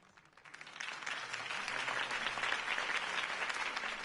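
Crowd applause in a video game after Harvey Dent's campaign speech, swelling from quiet into a sustained, dense clapping roar of many hands that holds steady, with no voices on top.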